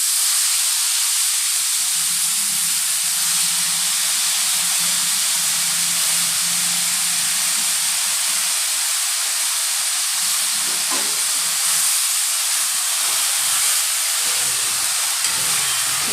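Fenugreek leaves hit a hot pan and sizzle, giving a loud, broad, steady hiss that lasts unbroken, with faint stirring scrapes beneath it.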